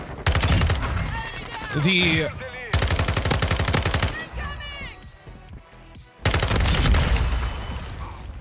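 The FSS Hurricane gun fires in Call of Duty MW2 in three long bursts of rapid automatic fire, loud and close, separated by short gaps where a person talks.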